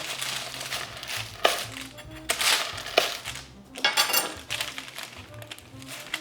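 A serrated knife sawing through food, rough crunching strokes in several short bursts with a few clinks against a plate or board, close and fairly loud.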